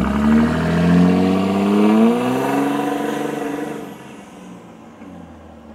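A tuned diesel truck engine revs hard while rolling coal, its loud rising pitch swelling over a few seconds before easing off into a lower idle.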